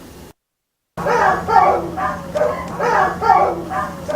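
A dog gives repeated whimpering, moaning cries in a steady rhythm, close and fairly loud, after a brief silent gap.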